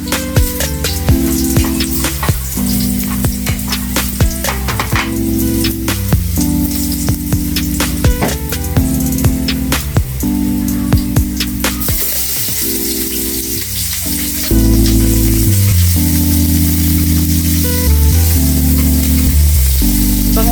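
Garlic sautéing in a pan, a loud continuous sizzle with crackling spatter and irregular bursts that swell and ease, then grow louder and denser near the end, close up with no talking.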